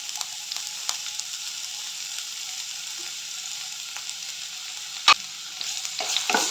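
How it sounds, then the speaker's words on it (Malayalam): Chopped garlic, green chili and ginger frying in hot oil in a pan, giving a steady bright sizzle with light stirring ticks and one louder clank of utensil on metal near the end. "ഇനി ഇതിലേക്ക് അരിഞ്ഞ് വെച്ചിട്ടുള്ള വെളുത്തുള്ളി പച്ചമുളക് ഇഞ്ചി ഒക്കെ ഇട്ട് കൊടുക്കാം"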